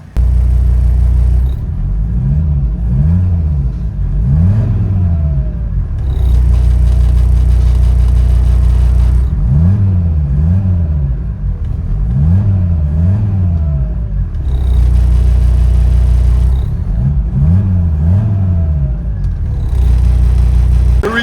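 Inside a 1983 Mercedes 300TD turbo diesel wagon with straight-pipe exhaust, the engine drones loudly and deeply, rising through repeated rev-ups and gear changes in several pulls, with booming low rumble and whine filling the cabin.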